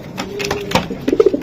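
Racing pigeons cooing at close range in a loft, a few soft low coos building toward the end, with faint background noise.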